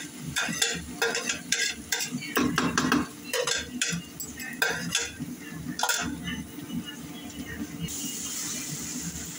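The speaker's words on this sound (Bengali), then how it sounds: "ভাবি বিশাল বড় কড়াইয়ের মধ্যে নুডলস পাকাচ্ছে।" A spatula scrapes and stirs noodles in a very large wok (kadai) cooking for a crowd of ten to fifteen, with repeated metallic strokes in an uneven rhythm over a continuous close oil sizzle.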